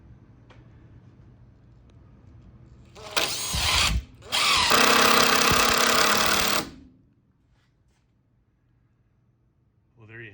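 A power drill drives screws into a warped lumber stud to straighten it, giving two loud bursts, a short one and then a longer whirring run of about two and a half seconds, with quiet between them and a quiet stretch after.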